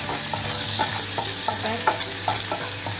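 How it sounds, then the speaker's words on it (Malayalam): Onions and curry leaves sauté in a pan with a steady sizzle, while a spoon stirs them in repeated light scraping strokes, close and clear. "ഉള്ളിയൊക്കെ നന്നായിട്ട് മൂത്ത് വന്നിട്ടുണ്ട്."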